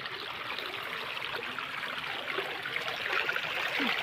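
Steady flowing stream water running beside a path near rice paddies, a continuous broadband rush that holds at an even level and swells slightly toward the end, with no talking over it.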